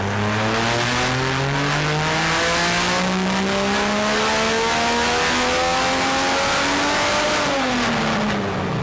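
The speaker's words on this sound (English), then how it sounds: "Dyno run 3, let's go." A turbocharged Barra engine in a Toyota 80 Series Land Cruiser revs hard on a dyno, its loud steadily rising tone climbing through the run before a brief dip and continued pull.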